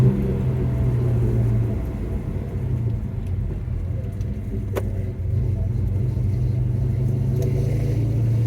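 A car engine cruises on a test drive at about 1600 RPM, giving a steady low hum with road rumble from inside the cabin. One sharp click sounds partway through, and nobody speaks.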